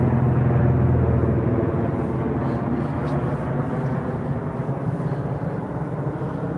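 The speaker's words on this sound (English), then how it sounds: "Cause I hear a copter overhead." A helicopter flies overhead at a shooting scene being investigated by Albuquerque police, a steady loud rumble with a low rotor drone that holds throughout and eases slightly over time.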